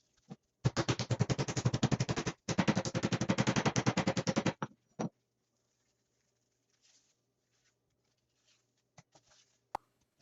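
Chicken thighs between two sheets of clear plastic wrap get pounded flat, two bursts of rapid, rhythmic close thuds lasting a few seconds each, then a few scattered single knocks in quiet.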